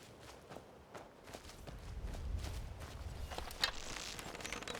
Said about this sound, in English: I thought I heard other footsteps.